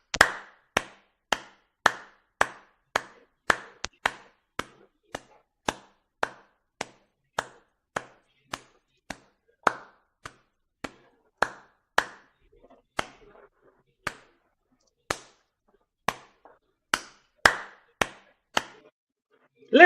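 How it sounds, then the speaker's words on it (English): A single person claps by hand in a loose, uneven rhythm, roughly thirty sharp, close claps spread out with short pauses, with no talking around them. "Let me give my little 2 cent clap right now."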